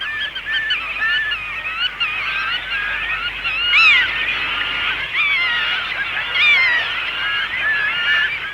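Flock of pintail ducks and black-tailed godwits calling on a flooded coastal shore at high tide, a dense, continuous chorus of overlapping honking and whistling calls with louder rises near the middle and toward the end.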